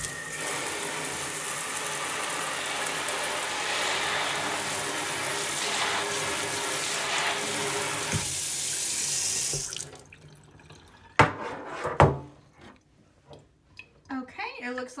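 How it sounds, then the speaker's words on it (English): A kitchen sink spray nozzle runs water onto a homemade water-catching device, a steady loud hiss of spray for most of the stretch, then cutting off to quieter clinks and handling noises. "I am going to turn on this spray nozzle right here and pretend that it is a rain shower"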